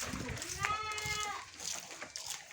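A goat, a greedy eater feeding on banana leaves, gives a single wavering bleat over people talking nearby, amid outdoor background noise.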